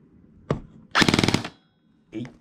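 KWA and WE airsoft guns fire close by: a single sharp shot, then a loud rapid burst of about a dozen rounds, and another lone shot after a short pause.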